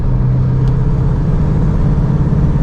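Cummins 2.8 diesel truck accelerating off-road in 4th gear, a steady low engine drone and rumble held throughout with a constant hum, no voices.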